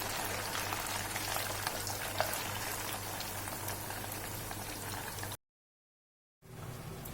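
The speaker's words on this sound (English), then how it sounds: "while the kofta balls are frying" Malai kofta balls fry in hot oil with a steady, close crackling bubble, briefly cut off by a second of silence before the sizzle returns.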